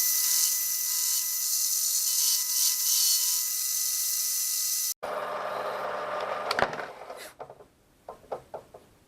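Small step being cut into a speargun line reel part on a DIY setup without a lathe, a steady whining machining tone that cuts off sharply midway, followed by scattered clicks and ratcheting mechanical knocks.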